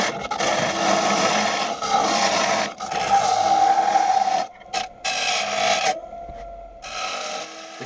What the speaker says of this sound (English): I'm just using the left of center part on the nose of my gouge, riding the bevel completely and letting it just slice away the wood.